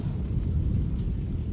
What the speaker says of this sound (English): it's still lightning and thundering